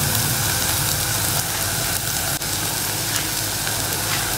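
Spices and pointed gourd fry together in a pan, giving a dense, even sizzle with a brief stirring bump midway, close and constant throughout.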